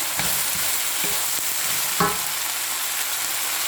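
Cubes of potato frying in a pan of ground beef for ginisang giniling, a steady broadband sizzle with a few stirring clatters and one sharper scrape near the middle, no voices.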